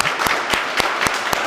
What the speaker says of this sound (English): we've got to give a round of applause to Adam Dubit, our transportation director